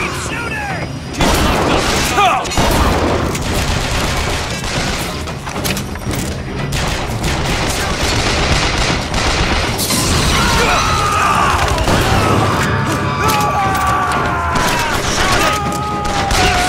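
Gunfire and booms in Bioshock Infinite combat, with dense repeated shots and impacts running throughout, loud and chaotic, layered over game noise and shouting voices.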